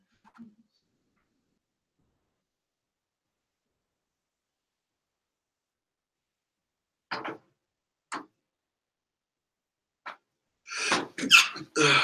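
Near-silence, then a few faint, brief bursts and a louder sudden sneeze-like burst near the end, close to the microphone.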